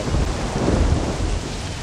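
Rain and rolling thunder in the Last Day on Earth survival video game, a loud steady downpour with deep rumbles swelling through the middle, no voices.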